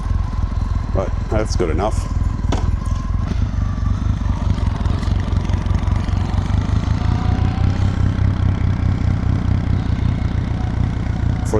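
A Kawasaki W800 motorcycle engine idles a little high, with a steady, close, even thrum running throughout and someone speaking briefly over it.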